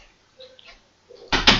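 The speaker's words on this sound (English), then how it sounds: "You shut the door." A door is pushed shut during a noisy New Year gathering, landing as one loud, close thud near the end after a stretch of quiet with faint background sounds.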